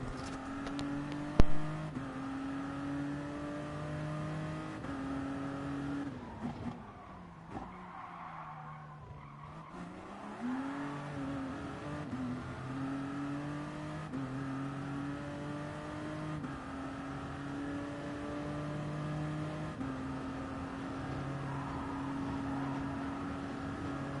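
Race car lapping a track in Gran Turismo Sport with default livery, a steady high engine drone shifting pitch through gear changes and corners, with tire skids, continuous and close with no talking.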